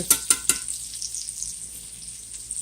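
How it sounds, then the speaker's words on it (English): Meat frying in a pan for a hearty home-cooked meal: steady close sizzle, opening with three quick utensil taps, then a soft continuous crackle with faint pops. "get in close and you can just see it sizzling away in there"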